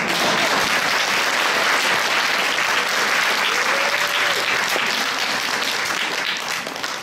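Concert audience applause fills the hall, a dense and steady wash of many hands clapping that stays loud for several seconds before beginning to taper off at the end.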